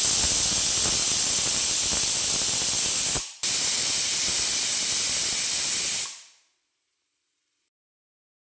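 A pressure cooker of ghee rice on the stove lets out a loud, steady steam hiss, broken by one brief gap, before the jet stops abruptly and leaves near silence.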